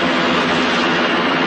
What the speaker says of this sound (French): j'ai le droit à un combat d'hélico.